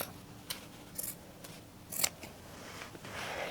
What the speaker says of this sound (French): Je vais couper le petit fil ici, qui ne me sert à rien.